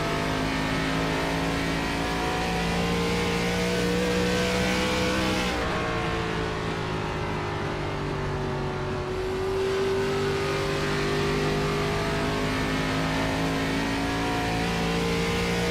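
An onboard race car engine on a lap at Iowa Speedway holds a steady, loud drone throughout, its pitch rising and dipping smoothly as the throttle rolls, with no talk.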